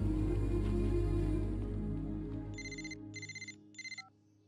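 A telephone ringtone sounds in three short repeated bursts as background music fades out, in a Telugu movie scene about a wedding.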